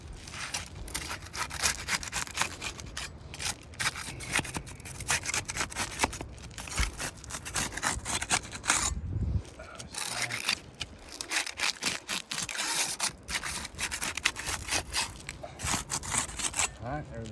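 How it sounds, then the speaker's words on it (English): Roof shingles being broken to reach and pull the nails beneath: continuous rough scraping, rubbing and crunching close by, with brief pauses, sounding like a tool prying at the shingle material. "I'm gonna have to break the shingles on the two above it to be able to get to the nails"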